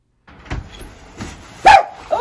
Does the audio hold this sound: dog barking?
yes